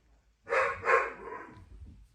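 A dog named Newton barks twice in quick succession, close and fairly loud, the second bark trailing into a short fading tail in an otherwise quiet room.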